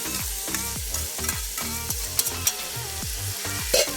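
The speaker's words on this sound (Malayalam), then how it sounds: "നമുക്ക് ഒന്ന് ഇളക്കി" Bird's eye chilli pickle with carrot and papaya is stirred in a pan, a rapid series of rhythmic scraping strokes over a soft sizzle, close and steady, with a couple of sharper clinks near the end.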